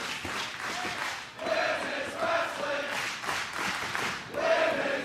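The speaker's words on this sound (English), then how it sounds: "And the appreciative Philadelphia crowd" A wrestling crowd in a Philadelphia arena cheering and roaring in a sustained wash of voices, loud and close, swelling in waves with a commentator talking over it.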